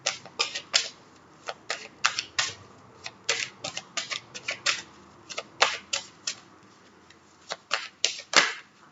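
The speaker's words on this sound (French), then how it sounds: "je vais tirer tout ce qu'il y a à tirer comme carte" Tarot cards being drawn and laid down one after another, a long run of sharp, crisp snaps and slaps in an irregular rhythm, close and fairly loud in a quiet room, with no talking.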